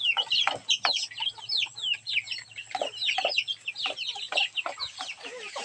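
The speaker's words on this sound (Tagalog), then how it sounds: "Ayan guys, yung manok natin." Chickens with their chicks on a farm clucking steadily, many short overlapping calls close by in a busy continuous stream.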